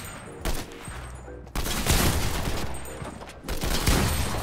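Fortnite gunfire with a pump shotgun hit, loud bursts of rapid shots broken by short gaps, sharp onsets around the start and again midway, then sustained heavy firing.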